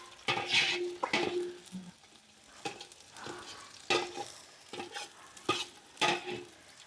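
Onions and green chillies sizzle and fry in a pan while a spoon stirs them, with repeated scraping strokes and clinks against the metal over a steady background sizzle, close up.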